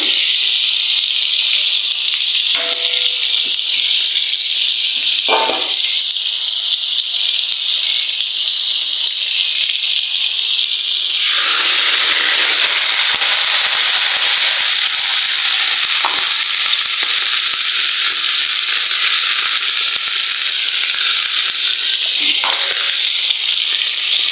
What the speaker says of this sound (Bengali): মাছটা ভেজে নিলাম